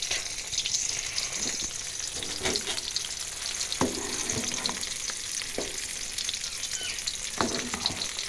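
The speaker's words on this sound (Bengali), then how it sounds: "মাছ ভাজা বসাই দিলাম" Fish frying in a pan on a home kitchen stove, a steady close crackling sizzle broken by occasional sharp pops and spatters, with no voices.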